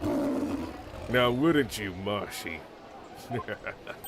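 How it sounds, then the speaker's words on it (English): In the video game Ace Attorney: Spirit of Justice, a warbd bird gives a loud roaring, lion-like cry, a rising and falling rumbling call with a man's speech over it. "It's the cry of a local bird known as a warbd."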